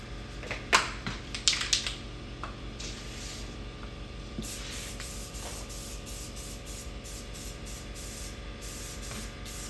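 An aerosol can sprays paint onto a pinball head, starting with a few short hissing bursts and clicks of the nozzle, then settling into a series of longer, fairly close spray passes.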